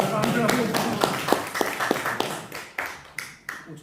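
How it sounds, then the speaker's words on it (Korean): Scattered, irregular hand claps ring out from a small audience during a pastor's talk on village ministry, sharp and fairly close, mixed with voices. "박수."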